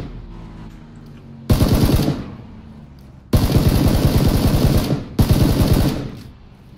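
Automatic gunfire in the video game PUBG, shooting at a moving vehicle's tires, comes in three loud, rapid bursts separated by short pauses with a quieter engine-like background.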